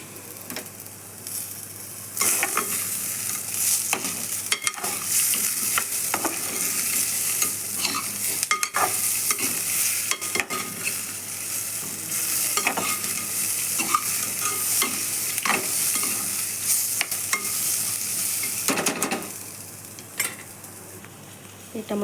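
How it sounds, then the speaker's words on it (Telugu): Toor dal and tomato pieces fry and are stirred in a pan for fenugreek dal, with a steady loud sizzle and repeated spoon scrapes and taps over about twenty seconds, and no talking. "కందిపప్పు వేగింది. మనం కట్ చేసి పెట్టుకున్న టమాటా ముక్కలు వేసుకుంటాం."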